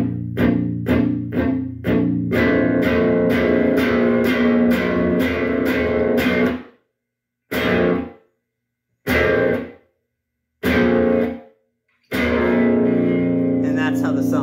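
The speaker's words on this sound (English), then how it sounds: "We leave the distortion on, but we do that same kind of quiet to loud figure again." A distorted electric guitar plays a rehearsal figure, first a run of rapid choppy strummed hits, then a sustained roaring chord, then several loud bursts separated by silent gaps, with heavy reverb and echo.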